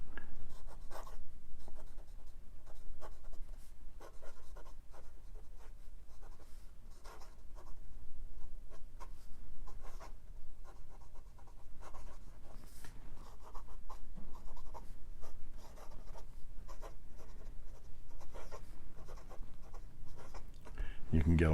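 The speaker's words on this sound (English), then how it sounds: "the pen is writing beautifully now" Parker Centennial Duofold fountain pen with a repaired nib writing on paper, a continuous soft close scratching of strokes in quick irregular bursts, with a voice talking over it.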